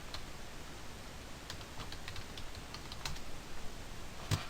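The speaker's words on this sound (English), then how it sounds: "So I'm going to enter that password" A password typed on a computer keyboard during a database login, with a quiet run of close, light key clicks in an irregular rhythm over a faint background hiss.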